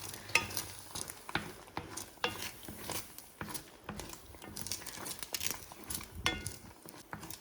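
Eggs frying in a pan with a steady crackling sizzle, broken by sharp pops and scraping clicks from close by.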